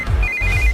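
A telephone rings in a Hindi-dubbed South Indian movie scene, a high electronic ringtone trilling steadily through most of the short moment over a low background hum.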